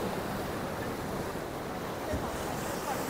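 Sea waves churn and wash against a beach structure on the Cyprus coast, a loud continuous roar of surf mixed with wind buffeting the microphone.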